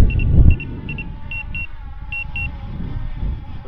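Short paired electronic beeps from an Autel Evo Nano Plus drone's obstacle sensor, repeating in quick doubles at a steady pace over low outdoor rumble and wind.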